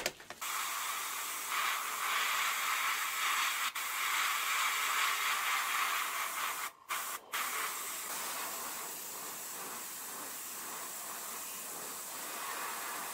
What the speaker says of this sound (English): I'm gonna just do it over here since we're using very, very small amount of paint